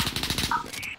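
Rapid bursts of automatic gunfire from Call of Duty Modern Warfare, a fast, loud rattling volley packed into about a second, with a brief electronic tone cutting in near the end.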